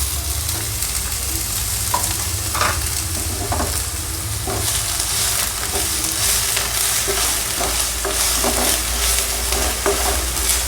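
Onion frying in oil in a pan for drumstick sabzi, a loud steady sizzle with intermittent scrapes and clinks of stirring, close and continuous with no talk.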